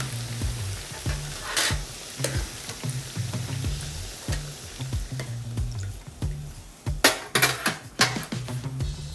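Eggplant pieces deep-fry in hot oil for a pasta arrabbiata, a steady close sizzle broken by clinks of metal utensils, with a sharper clatter near the end.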